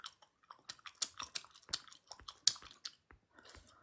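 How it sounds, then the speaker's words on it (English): Close, crisp chewing of food with repeated crunchy bites in an irregular rhythm, moderately loud against near silence. "Chewing, chewing, chewing."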